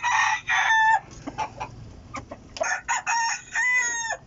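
A strong rooster, a fighting cock kept in a coop, crows loudly and nearby with harmonic, drawn-out calls, the long crows broken up by shorter clucks and squawks, with no talking over it.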